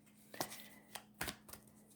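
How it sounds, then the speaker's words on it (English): A tarot card deck being shuffled by hand, a few quick soft riffles and flicks in short bursts, quiet and close with no talk. "I will go ahead and shuffle the deck"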